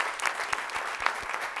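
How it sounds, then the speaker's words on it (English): A room of people at a city council meeting applauds the city manager, producing a continuous patter of moderate clapping with a few distinct sharper claps, fairly close and steady. "I think we should give him a round of applause"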